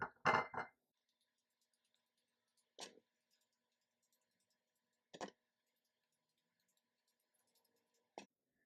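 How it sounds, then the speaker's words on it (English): A fork pokes holes in raw sweet potatoes, giving one clicky burst of taps at the start, then three short isolated pokes spaced a few seconds apart, close and fairly quiet with silence between. "take them and poke a few holes with a fork"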